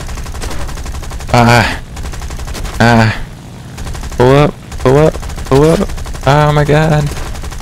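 Rapid machine-gun bursts from an aircraft rear gunner in the War Thunder video game, a steady rattle under several excited shouted voices, loud and close throughout.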